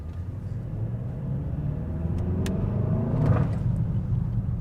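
A 2026 Mercedes S63 Manufaktur engine rumbles steadily and builds slightly in revs under gentle throttle, with a few faint crackles and pops from the exhaust near the end.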